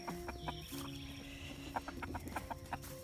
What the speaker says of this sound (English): So there's the hens, and there's the roosters.